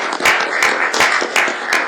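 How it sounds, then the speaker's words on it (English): Round of applause at a city council meeting in Hutchinson, a small group clapping in a loud, close burst of uneven handclaps lasting under two seconds. "I think Barry deserves a round of applause."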